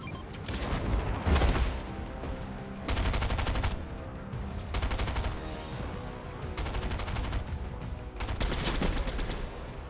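Sustained bursts of rapid automatic gunfire in Fortnite, loud and dense, with short lulls between volleys and no talking.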